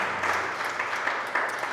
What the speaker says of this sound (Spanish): Yo quiero que le dé un fuerte aplauso al Señor